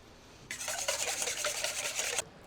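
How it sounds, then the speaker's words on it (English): Eggs being whisked for Greek pastitsio make a quick, brisk scraping and rattling run of strokes, close and fairly loud, lasting under two seconds with no talk. "Instead of just throwing the eggs straight in there, give them a little whisk first."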